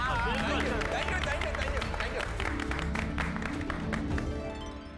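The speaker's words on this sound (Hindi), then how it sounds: "हमारे देश के सभी साइंटिस्टों के लिए एक बार जोरदार तालियां हो जाए।" Crowd applause for a team of scientists, a dense continuous wash of clapping and cheering layered under music and voices, loud throughout and fading slightly at the end.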